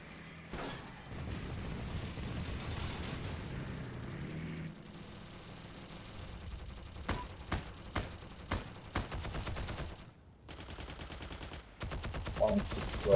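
Bursts of gunfire and explosions rattle through a Heroes & Generals battlefield with bombing planes, tanks and infantry, a dense rumbling din broken by sharp, repeated loud cracks toward the end.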